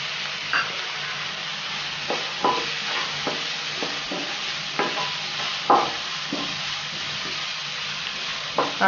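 Onion and capsicum with pepper powder frying in a pan for egg roll filling: a continuous close sizzle punctuated by a dozen or so sharp spatula stirs and scrapes at uneven intervals.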